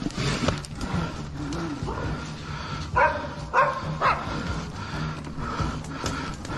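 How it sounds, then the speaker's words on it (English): A dog barks in a forest, several short yelps heard at a distance over a constant rumbling outdoor background. "From the barking sound, it's obvious there's a dog somewhere"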